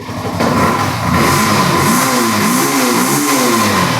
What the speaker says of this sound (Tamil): ஒரே சின்ன செல்ஃபு, வண்டி ஸ்டார்ட் ஆகிடுச்சு